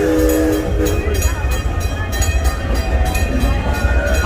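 An amusement park train engine at Six Flags Over Texas runs steadily with a low rumble and rhythmic clatter of the rail cars, loud and close, with a brief horn-like tone near the start.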